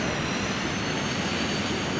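Airplane engine held at quarter throttle in Microsoft Flight Simulator X while taxiing, a loud, dense, even jet-like roar with no variation or voices over its short span.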